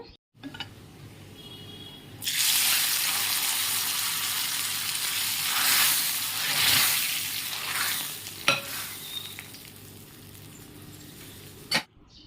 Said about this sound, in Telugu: పోపు అయితే పెట్టేసుకుంటున్నాను